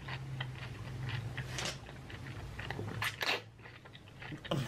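Someone biting and chewing food close to the mic, soft crunchy bites and wet chewing at a quiet level, no speech.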